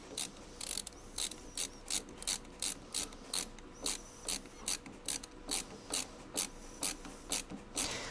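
A belt is tightened on a Sovol SV08 3D printer toolchanger, giving a run of sharp, evenly spaced ratcheting clicks, roughly two per second, close-up and crisp against a quiet background.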